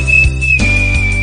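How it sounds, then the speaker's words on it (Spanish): A short, steady high-pitched whistle at a school Father's Day class performance, held as one unbroken tone over a low background hum, with no voices. "Una silbadita."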